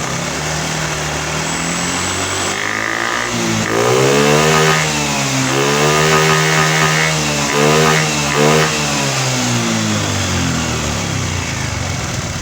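A Honda Beat ESP scooter with a draining battery idles steadily, then is throttled up into several rising revs before settling back to a steady run; no one speaks over the engine.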